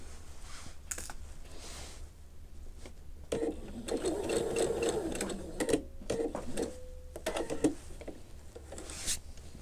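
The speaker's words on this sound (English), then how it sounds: "now I have my piece that I just sewed" A sewing machine stitches curved fabric pieces in quick mechanical bursts, its motor whirring and needle clattering close by, with short pauses and small clicks between runs.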